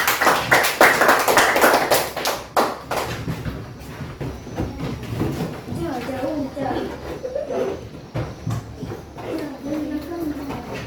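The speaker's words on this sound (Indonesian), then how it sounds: "Tepuk tangan untuk kelompok 3." Schoolchildren clap in a classroom for a group, a loud burst of rapid applause that dies away after a few seconds, followed by a teacher and children talking.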